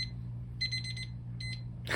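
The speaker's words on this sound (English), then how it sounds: "Sorry, that was my timer." A kitchen-style timer alarm beeps in short repeated bursts, two clear clusters of electronic tones over a steady low hum, ending in a brief louder clatter.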